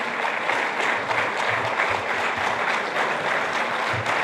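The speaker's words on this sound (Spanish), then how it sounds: "vamos a invitar con fuertes aplausos al pastor Pablo Shin" A seminar audience gives steady, dense applause to welcome a pastor onstage, continuous and fairly close for the whole stretch.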